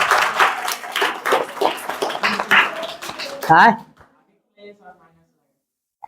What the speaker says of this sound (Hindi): चलिए पल्लवी कुमारी के लिए एक बार जोरदार तालियां।